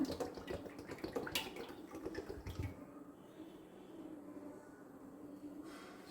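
Coconut oil poured into a pan for a homemade hair-oil preparation, a steady liquid pour with splashy bursts early on, then a softer continuous trickle, alone without talk.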